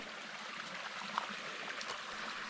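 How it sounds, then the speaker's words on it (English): Running water of a stream in Lathkill Dale, a soft, steady trickling wash that stays faint and even throughout with no voices. "A bit of running water."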